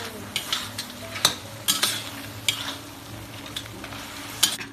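Crab stir-fried in a wok with chili paste and vegetables: loud, close sizzling broken by repeated sharp scrapes and tosses of the spatula in an uneven rhythm, no voices.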